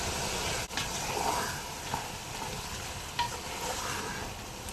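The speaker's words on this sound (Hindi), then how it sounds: "अब इसकी भुनाई करूँगी।" Whole spices, bay leaf and cinnamon pieces, frying and being stirred in hot oil in a pot, a steady soft sizzle with occasional light scrapes and clicks of a spoon, close and without talk.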